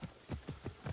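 Horse hooves clip-clop at a steady trot in Assassin's Creed Origins, about five evenly spaced soft thuds at a moderate distance, fairly quiet.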